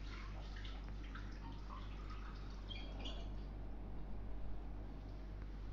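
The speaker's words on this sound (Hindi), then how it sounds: "अब हम इसमें ऐड करते हैं थोड़ा सा पानी." Water poured into a baking tray to form a bain-marie in a home kitchen, giving a soft, steady trickle and splash at close range over a low background hum.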